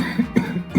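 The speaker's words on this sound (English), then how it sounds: "I'm not going to be able to make this video without the disruption of my cough" Short, harsh coughs from a person with pneumonia: three close, loud bursts in quick succession, rough and chesty, with no talk.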